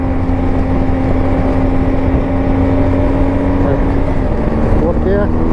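A BMW R1250 GSA motorcycle engine drones steadily at high revs in third gear, a sustained loud tone with wind rush over the microphone and a brief dip in pitch near the end as the rider shifts.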